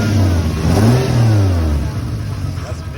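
A Lexus SC300 engine revs up and drops back while running rough and missing, loud and close, with the pitch rising and falling unevenly and a sputtering, irregular idle afterward.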